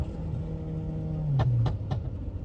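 A DQ250 DSG-converted VW Tiguan winds up, then snaps through quick upshifts. Each shift is marked by a sharp exhaust pop, about three crackles in close succession over the steady engine drone, and no one speaks.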